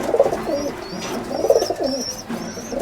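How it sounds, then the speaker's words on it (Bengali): Several pigeons coo repeatedly at close range in a breeding loft, their soft rolling calls overlapping in short bursts with no talking. "এখানে ব్রిডিং সেকশন, এটা এখানে পায়রা আছে, সব ডিম বাচ্চা করছে।"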